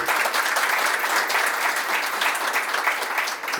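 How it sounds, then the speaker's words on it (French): Guests at a Gabonese civil wedding ceremony clap together in steady, dense applause, loud and continuous for the whole stretch. "Sous vos applaudissements,"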